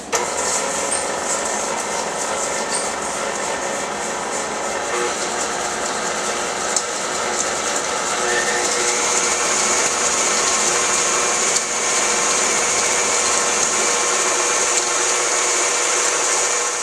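An electric mixer creams butter with white and brown sugar, giving a steady, loud motor whir with a high whine that runs unbroken for the whole stretch, with no talk over it.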